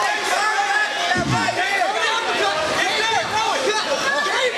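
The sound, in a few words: crowd at cage fight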